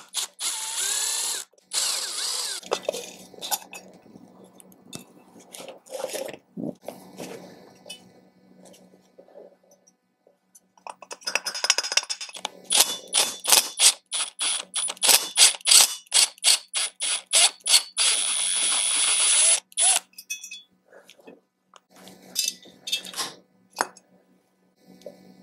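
Metal tools clink and a ratchet clicks in rapid bursts as the muffler is unbolted from a Stihl 028 AV Super chainsaw, close and fairly loud, with quieter rummaging between the runs of clicks.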